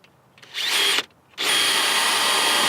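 A power drill bores a hole for mounting a universal Rally Armor mudflap with fender clips, whirring loudly in two close bursts with a short pause between them.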